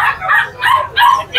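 A three-month-old male border collie puppy at a pet market gives three or four close, high yelping barks in a quick, even series.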